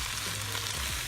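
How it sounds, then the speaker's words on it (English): Food sizzles in a hot pan as it fries, a faint, steady crackling hiss heard briefly and alone. "Ooh, she's sizzling."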